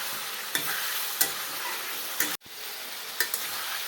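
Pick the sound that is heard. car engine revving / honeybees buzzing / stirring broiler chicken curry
stirring broiler chicken curry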